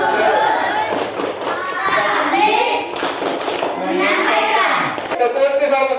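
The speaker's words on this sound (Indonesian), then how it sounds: "Tepuk sifat wajib Rasul." A group of children chants together while clapping in rhythm, their voices loud and close, with sharp hand claps marking the beat throughout.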